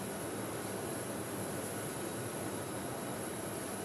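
Jet aircraft engine noise, a steady broadband roar that holds evenly throughout, loud and continuous with no speech over it.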